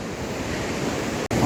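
The Shambhu river rushing beneath a bridge in a remote village, a steady broadband roar of flowing water with wind, continuous and fairly loud, with a brief dropout near the end.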